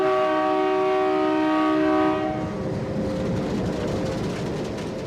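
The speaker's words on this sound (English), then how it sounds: "The Maitree departs Bangladesh on time, now in the hands of the Indian crew." The Maitree Express, a passenger train leaving Bangladesh, sounds a long, loud tonal horn for about two seconds, then the rumble and clatter of the moving train carry on.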